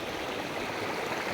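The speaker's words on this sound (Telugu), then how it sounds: "సంబంధించింది వాటర్ ఫాల్స్. ఇది మీరు చూస్తున్నారు, చాలా అందంగా ఉన్నది." A waterfall in Chittoor district gives a steady, unbroken rushing roar of falling water, dense and close, with no voices over it.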